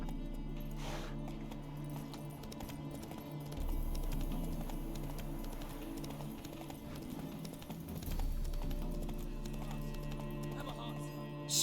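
Horse hooves gallop in the video game The Witcher 3: Wild Hunt, a steady rhythmic clip-clop beneath game music and ambience, with voices speaking over it.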